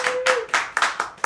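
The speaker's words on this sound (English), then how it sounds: "Give her a big round of applause." A few people clap in a sparse, uneven burst, roughly six distinct hand claps close by, at a live comedy and magic show.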